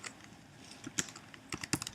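Keys tapped on a computer keyboard while entering an email address at a login screen, a few quiet scattered clicks with small clusters near the end, no voices.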